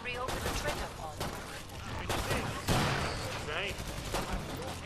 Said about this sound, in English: I'll continue firing down the line here.